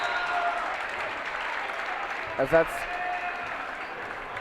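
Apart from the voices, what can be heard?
basketball game crowds cheering loudly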